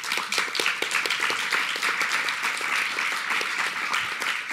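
Applause from an audience in the French National Assembly: dense, steady clapping from many hands that holds at an even level for the full length, with no voices rising above it.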